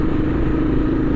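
A heavily modified Royal Enfield Interceptor 650 motorcycle accelerates, giving a steady, loud engine drone close to the rider throughout, with no talk.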